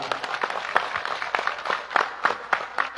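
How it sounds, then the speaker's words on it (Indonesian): A crowd at an outdoor religious gathering in a park in Taiwan claps in scattered, uneven bursts, moderately loud with distinct individual claps standing out over the general applause. "Tepuk tangan untuk NU Taiwan."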